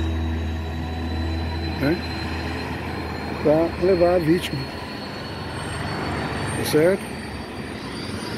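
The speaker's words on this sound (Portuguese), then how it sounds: "Neste momento o helicóptero já começa a funcionar" A helicopter engine starts up for an emergency flight carrying a stabbing victim to hospital, giving a steady droning hum with high whining tones. Someone talks over it throughout.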